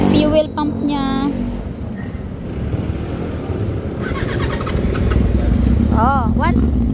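Yamaha R1 motorcycle engine running steadily after carburetor repair and synchronization, a continuous close mid-pitched rumble at idle while people talk over it.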